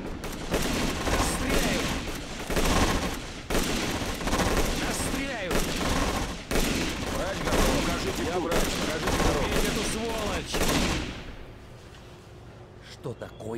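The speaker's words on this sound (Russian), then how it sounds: "Нас стреляют!" Bursts of rifle and machine-gun fire in the WWII video game Rush for Berlin: dense, loud rattling volleys for most of the clip, under shouted voices, that thin out and fade toward the end.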